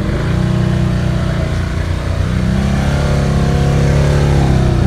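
A Honda ATV engine revs steadily and loudly as the machine pulls out of mud at a mud park, holding a sustained mid-pitched drone that rises slightly toward the end, with no speech.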